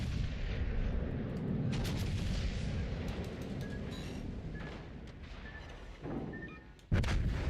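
Warship guns firing in a naval battle game: deep rumbling booms roll under a steady low roar, with a sharp louder blast near the end, and no speech.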